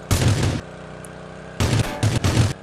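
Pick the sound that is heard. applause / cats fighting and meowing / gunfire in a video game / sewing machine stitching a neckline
gunfire in a video game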